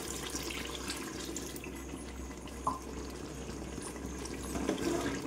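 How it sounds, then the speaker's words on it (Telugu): Water poured from glasses into a broiler chicken gravy curry makes a steady, faint wash of splashing liquid over a low hum, with one brief bright plip midway and no talking. "దీంట్లోకి మనకి తగినంత గ్రేవీ కోసం వాటర్ అయితే పోస్తున్నాను, ఈ గ్లాసులు"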